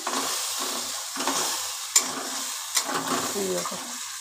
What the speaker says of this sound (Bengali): সেই মশলাটা আমি তেলের ওপর ছেড়ে দিচ্ছি।